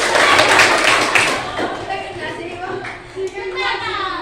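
Children in a classroom clap a counted rhythm pattern, a burst of sharp, fairly close claps that thins into scattered taps, with children's voices and an adult speaking over and after it.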